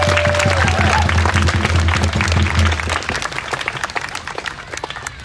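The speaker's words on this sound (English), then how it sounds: "Can we give a big round of applause?" A memorial gathering's audience breaks into a big round of applause, dense clapping for about three seconds that then thins and fades, with a tonal hum and a brief voice underneath at the start.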